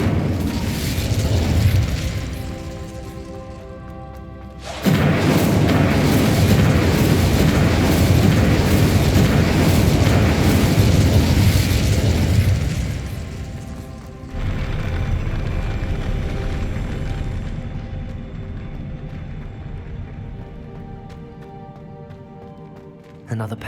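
A fire spell cast in Hogwarts Legacy: a loud whooshing, roaring burst of flame erupts suddenly and holds for several seconds before easing into a lower, steady crackling rumble that slowly fades.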